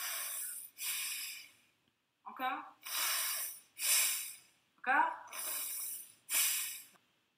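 A voice deliberately snorting through the nose with the mouth closed, flared nostrils imitating snoring, in a nasal breathing exercise for children; about six loud, close rasping breaths in a row, some with a rough vibrating start.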